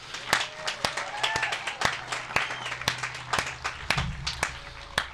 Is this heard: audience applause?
yes